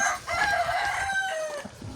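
Several chickens cluck and call continuously at close range, with overlapping higher-pitched squawks and a crowing-like tone running through.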